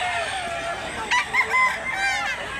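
A one-year-old local bandid rooster at a poultry sale in Mantalungon, Barili, Cebu gives a short, wavering crow amid clucks and faint background chatter, fairly close but not loud.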